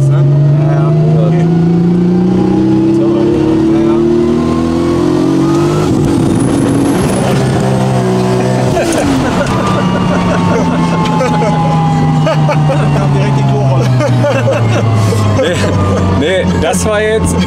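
A VW Golf engine revs hard at full throttle, a loud sustained roar that climbs and falls in pitch as it pulls, with a rushing, whooshing middle stretch.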